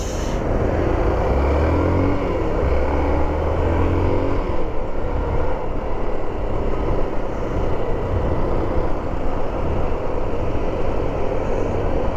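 Road traffic near Sky Ranch makes a steady, close engine roar and tire hiss. Passing vehicles blend into a continuous loud drone with no clear gaps.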